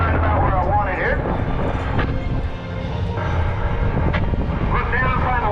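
A loud, constant engine drone fills the cockpit of a small airshow stunt plane in flight, with a pilot's voice talking over it throughout.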